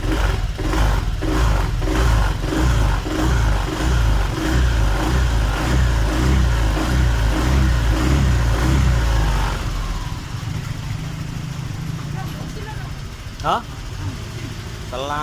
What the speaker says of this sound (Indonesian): Ini sudah nyala motornya.